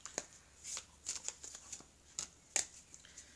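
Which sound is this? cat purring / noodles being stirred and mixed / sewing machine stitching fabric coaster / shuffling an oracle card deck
shuffling an oracle card deck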